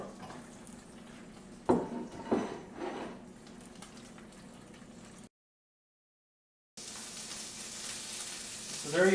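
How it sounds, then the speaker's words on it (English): Hamburger and steak fries sizzle and crackle steadily in a hot pan, with a few louder spatters, a brief silence, then the frying resumes more intensely. "Pan frying hamburger with some of the steak fries"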